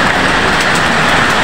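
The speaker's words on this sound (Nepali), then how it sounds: "कतै पनि जान सकिँदैनौँ, भीषण पानी परेको छ" Heavy rain with hailstones pours down in a loud, continuous, dense hiss that stays even from start to finish, with no voices.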